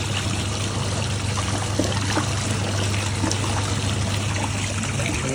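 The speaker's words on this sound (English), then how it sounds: "Water's coming in, water's coming out." Inside a Hitachi PS330P twin tub washer on an overflow rinse, water pours in and drains out at once, a steady loud trickling rush with a low motor hum underneath and no break.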